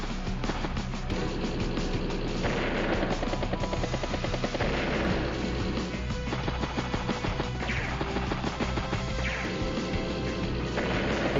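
Battlecopter attack in Advance Wars: Days of Ruin, a loud continuous rotor chop with repeated percussive impact bursts and crashes recurring every few seconds, no voices.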